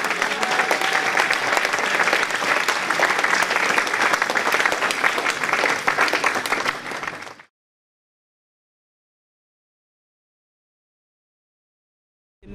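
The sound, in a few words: congregation applauding in church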